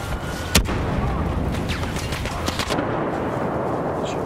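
Blaster gunfire in Star Wars Battlefront multiplayer, a sharp loud shot early, then scattered quicker bursts amid battle noise, with low background rumble throughout.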